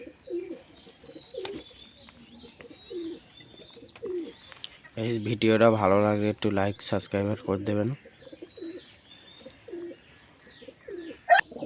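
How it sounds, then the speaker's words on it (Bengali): Pigeons coo softly in repeated phrases while being fed grain, with scattered bird chirps; a person talks loudly over them in the middle stretch. "গাইস, পায়রাগুলো আপাতত খেতে দিচ্ছি, একটু পরে আমি কাজে চলে যাব,"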